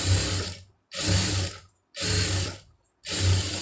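A sewing machine stitches a blouse neck in four rapid mechanical bursts, each close and steady for about three quarters of a second, separated by short silent pauses.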